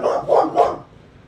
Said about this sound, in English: Are you gonna bark at me again?